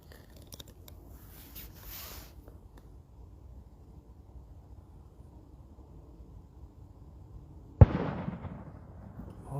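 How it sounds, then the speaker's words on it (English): Fireworks burst in one sharp, loud bang near the end, after a long stretch of faint rumbling and scattered distant pops during a Halloween night session. "More fireworks."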